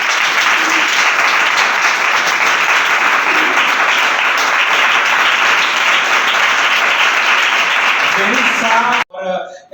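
Sustained dense applause from a church congregation cheering a birthday girl named Jerusa at a Hindi-language fellowship service, loud and steady for about nine seconds before cutting off abruptly as a voice begins speaking.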